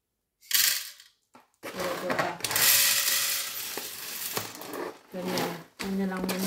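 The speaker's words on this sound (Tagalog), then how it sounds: "Maglagay tayo ng kape sa taas ng machine." Coffee beans poured into the top hopper of a new WMF coffee machine, a dry rattling rush in several short bursts with pauses between, heard close up.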